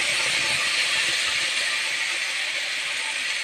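Onion and chili paste hits hot oil in which cumin has already reddened, for a thin Bengali rohu fish and ridge gourd curry, giving a loud, steady, close sizzling hiss that holds evenly throughout.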